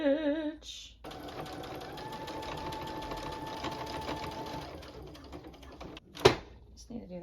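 A sewing machine runs a straight stitch along a pinned, folded and ironed hem in one long steady whirring run, moderately loud, with brief voice sounds at the start and a sharp click near the end.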